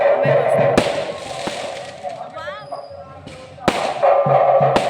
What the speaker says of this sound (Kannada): ಪಟಾಕಿ ಹೊಡಿತು ಅಲ್ಲಿ ಹಿಂದ್ಗಡೆ.